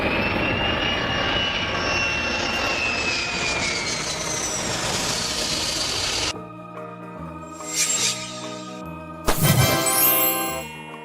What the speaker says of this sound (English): Super air tanker, a giant aircraft like the Boeing 747, modified to carry tens of thousands of liters of fire retardant.